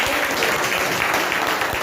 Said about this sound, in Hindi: तो ताली बजा दो दोनों के लिए।